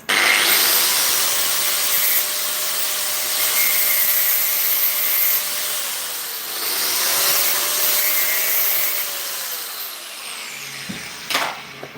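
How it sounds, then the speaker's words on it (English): A weld on a metal bar of a large industrial chip basket being cut off: a steady, loud grinding whine with pitch sweeps as the tool bites and eases, ending in a few sharp clanks. "I'm going to just remove the point where it's welded, because it's interfering here."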